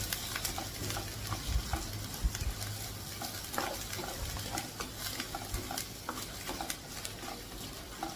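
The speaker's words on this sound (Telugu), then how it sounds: "ఇప్పుడు జింజర్ గార్లిక్ పేస్ట్ అంటే అల్లం వెల్లుల్లి ఇంకా ఆనియన్స్ పచ్చిమిర్చి ఆయిల్లో బాగా ఫ్రై అవ్వాలి" Ginger garlic paste, onions and green chillies fry in hot oil with a steady crackling sizzle, broken by repeated scrapes and clatters of stirring in the pan, close and continuous with no voices.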